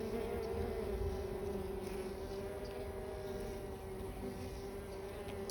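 Honey bees buzzing around a beehive, a dense continuous drone of many wings, close and steady throughout with no talking.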